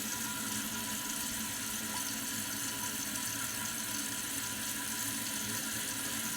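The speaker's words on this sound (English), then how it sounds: "You'll hear the tank start to fill up." A Kohler toilet tank refills with water after a flapper gasket replacement, a steady hissing rush of water running continuously and fairly close, with no talking.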